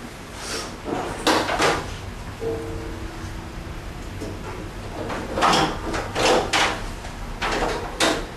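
Latch clunks and bumps as a car hood is released and raised before an oil change, several sharp knocks and a metallic creak in a moderately close, quiet garage-like space, with no talk.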